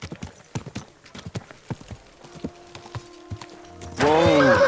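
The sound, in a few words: horse hooves clip-clopping in Kingdom Come Deliverance II video game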